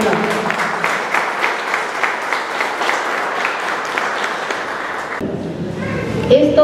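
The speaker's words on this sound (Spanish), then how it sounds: "Un fuerte voto de aplauso." An audience at a civil defense gathering about mudslides in Chosica gives a sustained round of loud, even applause for several seconds, ending abruptly as a voice and a few thumps follow.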